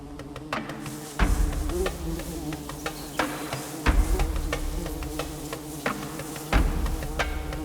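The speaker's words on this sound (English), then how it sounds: "The female bees work tirelessly," Female bees digging and working at their nest, a close, steady insect buzz with scattered soft knocks and scrapes of earth being moved.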